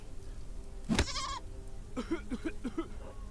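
A goat bleats in the Deponia Doomsday adventure game: a sharp hit followed by a wavering bleat, then a series of short, stuttering bleats, clear and close.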